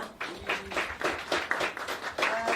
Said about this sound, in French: Alors, une bonne main d'applaudissements.